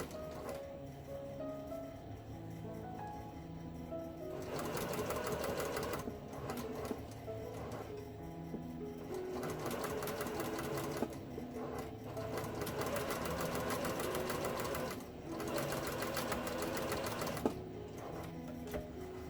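A sewing machine stitches a face mask in steady, continuous runs with a brief pause midway, its motor hum and rapid needle clatter close and even throughout.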